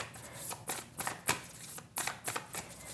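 Tarot cards are shuffled close up in quick, repeated riffling bursts, each a crisp flutter, with nothing else audible.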